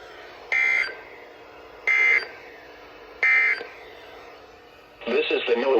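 A NOAA Weather Radio alert sounds three loud, evenly spaced electronic beeps during tornadic storms in southern Wisconsin, followed by a broadcast voice starting to speak.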